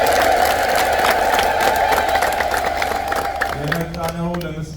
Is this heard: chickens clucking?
no